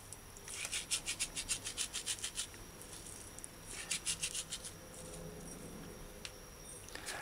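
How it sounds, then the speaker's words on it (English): Dried rosemary ground fine by hand in a kitchen, a near, quiet rasping rub that comes in two bursts of quick rhythmic strokes with pauses between. "Do as you see me doing and grind the rosemary fine."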